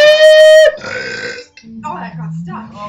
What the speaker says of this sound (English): What, a burping contest?